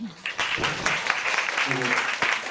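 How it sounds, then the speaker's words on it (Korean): Seminar audience at a security conference clapping after a presentation, a short burst of moderate applause in a room with a voice briefly audible over it. "좋은 발표해 주신 박수 부탁드립니다."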